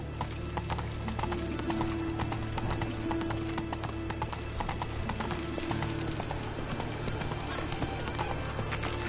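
Roach the horse's hooves clip-clop in The Witcher 3, a steady, evenly paced walking rhythm close by that continues throughout over constant low game ambience.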